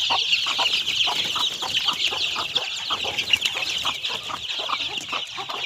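Desi country hen with her chicks, fifteen days to a month and a half old, clucking close by amid a continuous chorus of high, rapid chick peeps.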